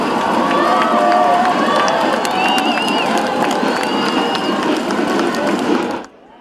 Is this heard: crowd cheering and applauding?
yes